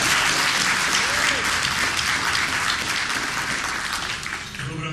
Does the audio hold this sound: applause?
yes